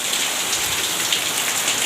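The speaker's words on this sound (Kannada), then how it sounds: "ಆದರೆ ಇವತ್ತು ಭಯಂಕರ ಭರ್ಜರಿ ಮಳೆ ಓದ್ಬಿಟ್ಟಿದೆ" Heavy rain pours steadily on a poor family's house, where roof tiles have been taken down and a tarpaulin put up, a dense, unbroken hiss of drops on surfaces with no voices.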